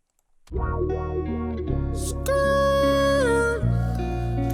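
Sung vocals with MetaTune pitch correction cranked all the way up, notes snapping between steps with a robotic, warbling edge over a steady backing track.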